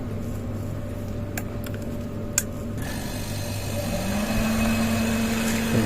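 A Dixell-controlled refrigeration unit powering on, its compressor and evaporator fan starting together: a steady low hum with faint clicks, then a rising motor whine that settles into a continuous running drone, no talking.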